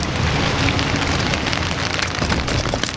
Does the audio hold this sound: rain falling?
yes